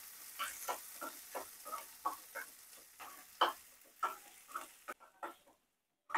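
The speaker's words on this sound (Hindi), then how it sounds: "इसका हम चॉप प्याज डाल देंगे इसमें। इसको भी अच्छे से भून लेंगे इसमें सुनहरा होने तक।" Chopped onion frying with ginger and green chili for a dal tempering, a soft sizzle broken by regular scraping strokes of a spoon about twice a second, briefly dropping to silence near the end.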